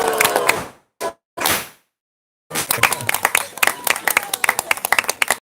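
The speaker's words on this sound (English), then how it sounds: "Give him a big round of applause." Indoor applause for a longtime national champion wrestler at a village lecture, a few short bursts of clapping after a gap, then a longer run of scattered claps and crowd noise.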